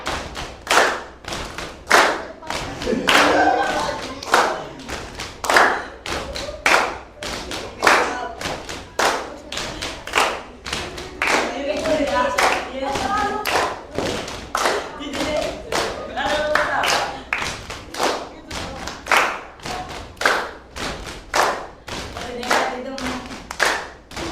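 A school class claps together in a rhythmic group cheer, sharp synchronized bursts of hands in patterned beats, with children's voices chanting between and over the claps, close and lively throughout.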